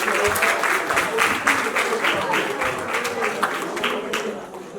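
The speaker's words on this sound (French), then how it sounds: "Est-ce qu'on peut applaudir pour lui, s'il vous plaît?" Guests at a surprise birthday party for a mother clap together, a loud, busy patter of many hands with a few sharper claps, while voices and cheers mix in underneath.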